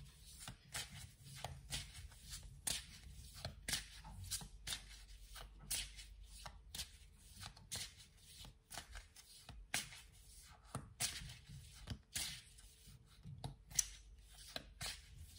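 A deck of oracle cards is shuffled over and over, making quick papery riffles and soft slaps in an uneven, continuous rhythm, close and fairly quiet, with no talk.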